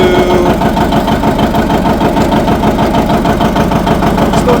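A warmed-up John Deere 730 tractor engine runs loud and close with a steady, throbbing rhythm, continuing without break and with no talk over it.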